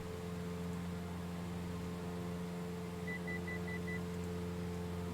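Inside a Cessna cockpit in flight, an altitude alert sounds a rapid series of short electronic beeps, about five evenly spaced, at 1,000 feet below the set altitude, over a steady engine hum and airflow noise.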